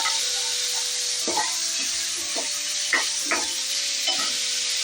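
Ridge gourd and green chilies cook in a pan with a steady soft sizzle, broken by a few scraping stirs of a spoon, close and alone with no voices.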